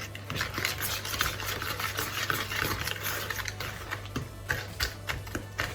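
A cup of sugar gets stirred into banana bread batter, giving a quick run of soft scraping and tapping strokes up close, irregular and fairly quiet.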